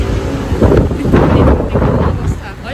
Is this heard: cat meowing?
no